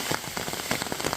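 Heavy rain pours down in the Montenegro mountains, a dense steady patter of drops striking a nearby surface, with no voices.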